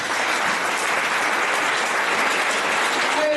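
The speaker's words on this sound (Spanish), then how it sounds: "Da un fuerte aplauso a aquel que vive" A church congregation applauding in a thick, continuous wash of clapping that holds an even level throughout, with no voice on top.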